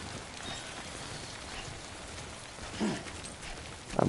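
Rain falling in the Death Stranding video game, a steady diffuse hiss of rainfall throughout with a couple of brief louder bumps and no talk.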